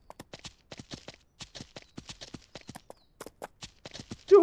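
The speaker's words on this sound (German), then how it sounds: "Wir haben jetzt ein Pferd" Horse hooves clip-clop in a steady walking rhythm in the ranch game Ranch Simulator, close and clear, a run of evenly spaced hoof strikes ending in a brief louder burst.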